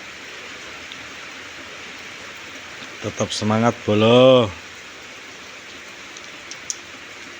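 Soft, steady hiss of rain falling throughout, with someone speaking briefly in the middle.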